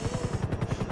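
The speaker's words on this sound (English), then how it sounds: "I'm flying in a helicopter with a dead man." Helicopter in the video game GTA V, its rotor chopping in a steady rapid low thump with a continuous engine whine over the top, close and moderately loud, with no voices.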